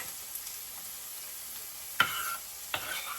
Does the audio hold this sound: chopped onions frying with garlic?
yes